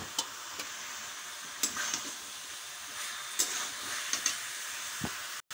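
Meat stirred in a pan with ginger, faint frying sizzle under light scraping and tapping clicks from a utensil at irregular intervals, quiet and close, no talking.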